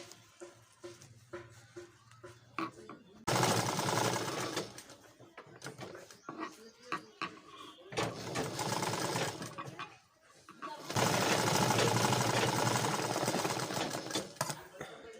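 A sewing machine stitches cloth in two long, loud, steady runs of close mechanical whirring, separated by quieter stretches of handling clicks and rustles.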